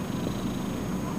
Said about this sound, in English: My kitty's sleeping and he's purring.